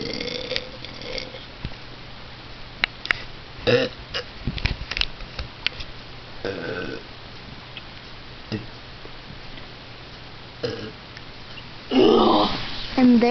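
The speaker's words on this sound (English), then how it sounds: "that's all for our third belching contest" People take turns belching in a contest: several short burps scattered among clicks and quiet gaps, then a longer, louder belch near the end, with some talking in between.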